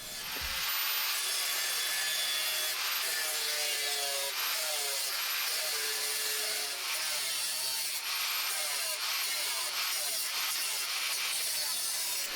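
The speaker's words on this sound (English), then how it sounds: "I'll just slowly start taking off some metal and test fitting it" Sheet metal floor patch for a Triumph TR4 being trimmed with a hand tool, a steady harsh rasping cut running continuously with repeated squealing scrapes, close and loud throughout with no talking.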